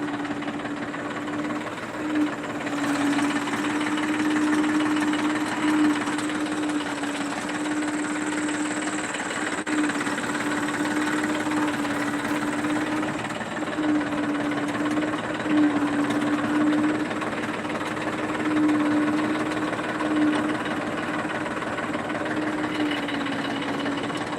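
A tractor engine drones steadily with a constant low hum throughout, close and unbroken, with no voices.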